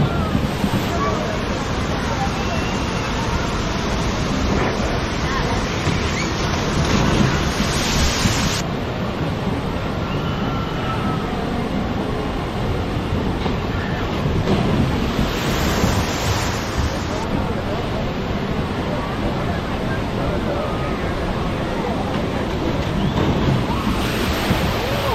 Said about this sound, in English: if you want more wet, there's Dudley Do-Right's Ripsaw Falls.